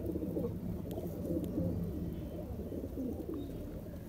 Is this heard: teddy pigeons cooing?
yes